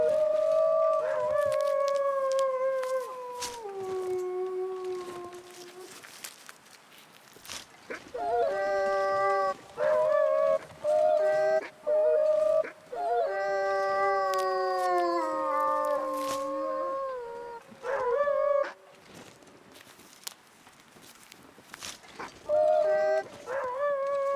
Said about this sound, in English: I heard a wolf making a weird noise.